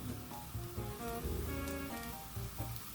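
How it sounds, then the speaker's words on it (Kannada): Spices such as black pepper, cumin and curry leaves, with onion, jaggery and tamarind, fry on a low flame for green tomato chutney, giving a soft, continuous sizzle with faint stirring, quiet and without voices. "ಒಂದೊಂದಾಗಿ ಹಾಕಿ ಸಣ್ಣ ಉರಿಯಲ್ಲಿ ಹುರಿಯಬೇಕು."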